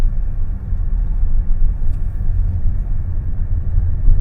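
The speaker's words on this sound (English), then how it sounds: "I wanted to see how she'd go on a bit of a rougher road surface." A 2024 Subaru Solterra AWD Touring driving on a rough road surface, heard from inside as a constant low rumble of road and tyre noise with no talking.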